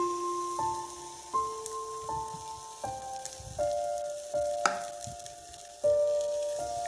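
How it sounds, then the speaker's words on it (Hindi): Egg roll batter mixture sizzling in a hot frying pan, a steady hissing crackle heard beneath a melodic background tune with stepped notes. "फ्राई पैन मैंने गर्म कर लिया और इसके अंदर अब मैं डालूंगी अपना ये मिक्सचर"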